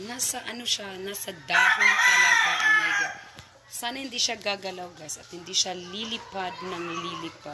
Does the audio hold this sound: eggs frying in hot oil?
no